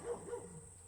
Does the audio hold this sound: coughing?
no